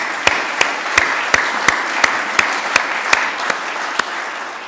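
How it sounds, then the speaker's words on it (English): Lecture hall audience applauds steadily with a few distinct sharp claps standing out at regular intervals, a continuous moderate wash of clapping with no voices. "I'd like to give him a round of applause and absentia for his support."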